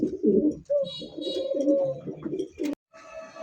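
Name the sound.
pigeons cooing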